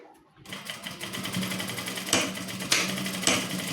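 Sewing machine stitching along a folded fabric seam margin, a rapid, steady mechanical whirring with regular needle clatter, close and clear, starting after a brief quiet moment and running continuously with a few louder bumps.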